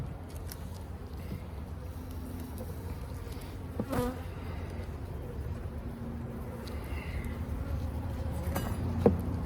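Honeybees buzz steadily around an open Layens hive during an inspection, a close, continuous drone with individual bees passing near, alone without talk.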